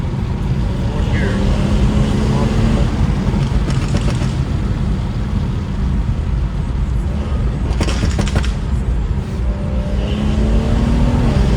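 Stage 2 BMW 440i Gran Coupe pulling in fourth gear, a steady engine drone and road roar from inside the cabin, with someone talking over it.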